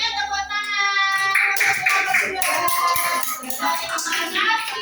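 A classroom of students claps together during a micro-teaching lesson, a burst of hand claps that lasts a few seconds, with voices and cheering mixed in close by.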